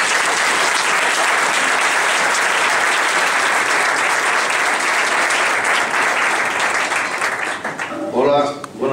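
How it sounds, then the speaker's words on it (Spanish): An audience applauds at a political event, a loud, dense, steady clapping that fades out near the end as a voice begins speaking. "Un aplauso para él."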